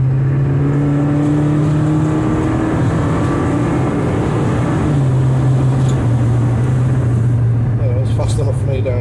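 A SAAB 900 Convertible accelerates hard on automatic kick-down, its engine droning loud and close as the pitch climbs, drops at a gear change partway through, then keeps pulling.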